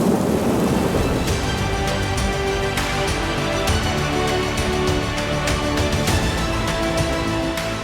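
Heavy rain pours with rolls of thunder over the flooded Gangavali river near a landslide site at Shirur, Karnataka, a loud steady roar broken by sharp crackles through the whole stretch.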